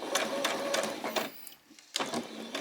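A sewing machine back stitching a doll's skirt runs in short, uneven bursts of clattering stitches close by, with a brief pause in the middle before stitching resumes.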